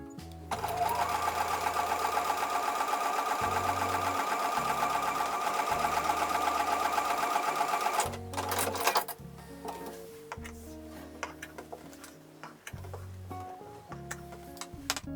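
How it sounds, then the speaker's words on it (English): A domestic sewing machine stitches quilt pieces along drawn lines, running in a loud steady whir for several seconds, then starting and stopping in short bursts with clicks between runs. "So I'm going to take those over to the sewing machine and sew on top of the drawn lines."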